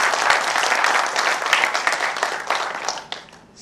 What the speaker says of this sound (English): One big round of applause for both of these gentlemen.